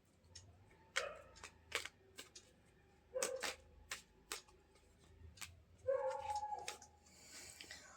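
Tarot cards are shuffled and drawn, making soft scattered snaps, flicks and rustles of card stock, close and quiet, in irregular clusters.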